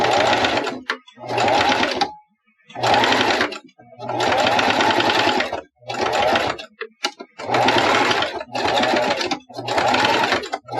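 A sewing machine stitching back and forth over fabric to lock the thread at the start and end of a seam, running in loud whirring bursts of one to two seconds separated by short pauses.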